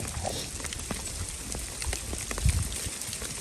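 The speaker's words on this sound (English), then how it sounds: "it's raining on us now, so we're gonna sit under this tree for a while" Heavy rain pours down on hunters sheltering under a tree in a canyon during an elk hunt, a dense continuous hiss dotted with sharp drips and patters close by.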